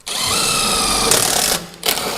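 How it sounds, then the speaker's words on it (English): A power drill whines steadily while pre-drilling a hole for a self-tapping screw during rust repair on a Ford F250's rockers and cab corners, then stops briefly and starts again in a short second burst. "I'll take a self-tapper, pre-drill the hole"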